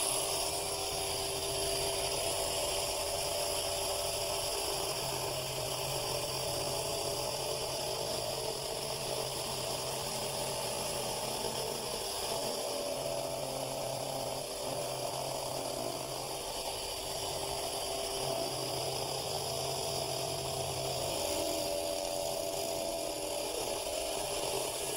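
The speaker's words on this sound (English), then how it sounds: "I've mounted my jigsaw on this plate right here to invert it, so when I follow the template, I'll get a nice square cut" An inverted jigsaw mounted under a plate cuts oak along a template for curved stair molding, a steady close buzzing whine that runs unbroken throughout with no talking.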